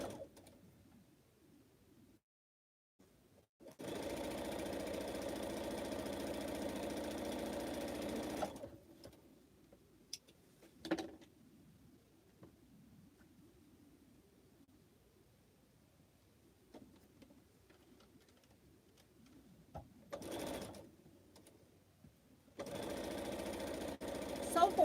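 A sewing machine stitches pineapple quilt blocks in two loud, steady runs of several seconds each, with a short burst in between and another starting at the end, separated by quiet handling and soft talk.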